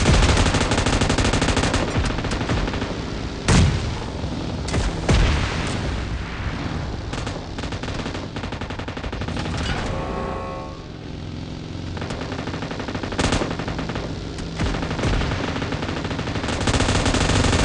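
Gunfire fills a PUBG Mobile match: loud bursts of automatic fire with sharp single shots and booming impacts, dense and close, over a constant battle drone.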